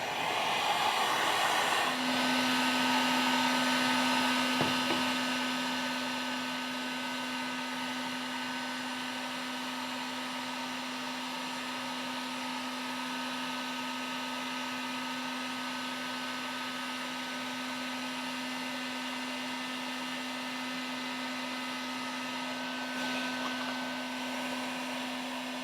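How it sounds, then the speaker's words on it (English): A heat gun blows hot air onto Worbla thermoplastic for Aquaman bracers, a steady close whirring hiss with a constant hum, louder at the start and then even and unbroken throughout, with no speech. "So, Worbla Heat Gun,"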